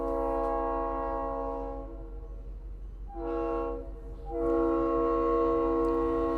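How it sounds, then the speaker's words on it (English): A train horn in a tabletop war game, sustained harmonic blasts over low rumble, pausing briefly then sounding again louder near the end; no one speaks. "Death Corps, your train is here."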